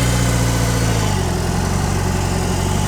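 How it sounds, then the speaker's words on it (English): A 2022 BMW R18 Transcontinental motorcycle's large boxer engine idles steadily and loudly up close, a deep, even rumbling throb with a slight shift partway through. "It's a motorcycle."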